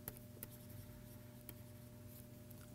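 Chalk or pen writing during a technical lecture on IEEE 802.15.4e: faint, scattered strokes and taps over a steady room hum, with no talking.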